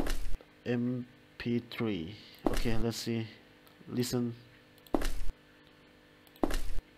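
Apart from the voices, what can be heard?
footstep sound effect in UPBGE video game engine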